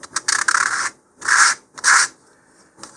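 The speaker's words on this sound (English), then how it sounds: "Next, still with the 100 grit," Three or four short strokes of hand sanding with 100-grit sandpaper on the edges of a model rocket part, a dry rasping rub back and forth, close up with brief pauses between strokes.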